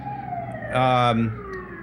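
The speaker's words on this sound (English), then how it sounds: "We have an ambulance coming to get me here in New York before the show goes really out of control." A wailing ambulance siren sweeps past on a New York street, swelling loud for about half a second and then fading, with background noise around it.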